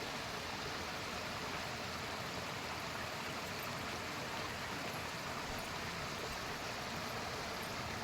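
Water rushes in a stream at a village in Uttarakhand, the flow that drives a local flour mill: a constant, even hiss that is soft and steady throughout, with no voices.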